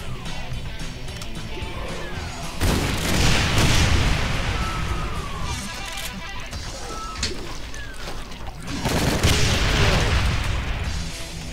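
Loud shotgun blasts from the Call of DooM mod for GZDoom, played in the Sigil Ultimate hangar level, two heavy booming shots a few seconds apart over game noise.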